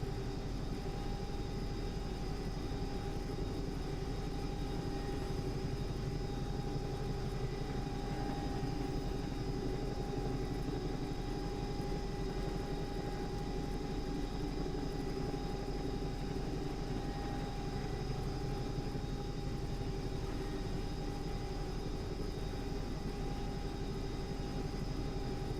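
Bell 222 helicopter engine in the X-Plane 11 flight simulator, painted as a London air ambulance: a steady, unbroken turbine whine and rotor drone with constant tonal hums, holding at an even level throughout with no voices.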